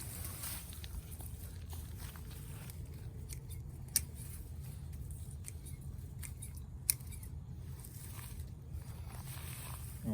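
Pruning shears snip a Sunshine ligustrum shrub outdoors, giving faint scattered clicks and sharp snaps, two louder cuts standing out over a low steady background hum.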